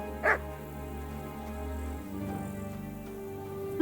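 A dog in the video game Kingdom Come: Deliverance gives a single short, sharp bark near the start over a sustained, droning in-game ambience.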